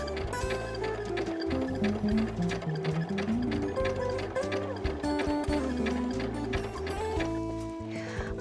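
A sewing machine stitches a zigzag set to 1.5 on a gymnastics leotard appliqué, with a fast, steady mechanical clatter of needle strokes over a whirring motor whose pitch drifts up and down.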